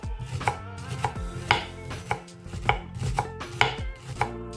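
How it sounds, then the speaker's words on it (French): A knife finely slices shallots on a cutting board in quick, close, crisp taps, about two per second, with no talking. "émincez finement l'échalote comme ceci"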